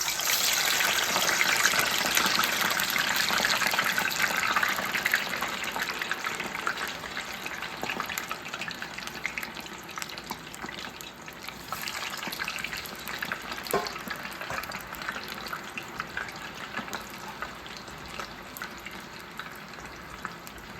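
French fries dropped into hot oil at about 325 to 350 degrees give a loud, steady bubbling sizzle that slowly settles and quiets over twenty seconds, with a few faint clinks and no talking.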